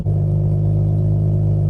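A car idles or drives with a steady low engine rumble, close and continuous, no voices.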